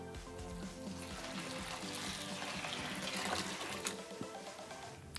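Pumpkin seeds soak and get washed in water, with faint trickling, splashing and running-water sounds that continue softly throughout and no speech.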